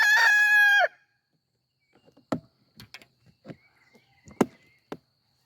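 A rooster lets out one loud, close crow, followed by a scattering of short clucks and soft scuffling sounds at lower volume.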